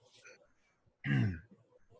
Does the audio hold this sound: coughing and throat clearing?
yes